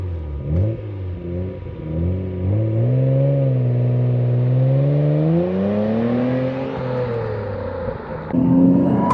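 A Nissan Skyline R33 GT-R V-Spec engine revs up through a long, climbing sweep and falls back down, then blips again. The loud, close mechanical note is heard alone, with no voices.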